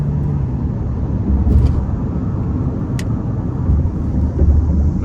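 Heard from inside the cabin, a 2024 Hyundai Tucson Hybrid accelerates hard out of a corner with a low, steady engine and road rumble and a couple of faint clicks.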